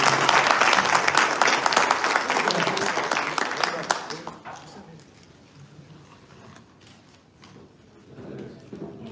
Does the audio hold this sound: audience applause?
yes